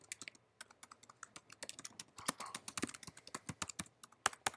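Rapid, uneven typing on a computer keyboard during a programming lecture, a steady run of close, crisp key clicks with short pauses and no talking.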